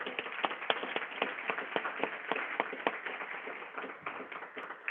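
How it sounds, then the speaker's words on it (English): An audience at the NYC CERT graduation applauds its graduates with brisk, fairly close clapping from a modest indoor crowd, many hands overlapping in a steady patter. "Let's get a round of applause."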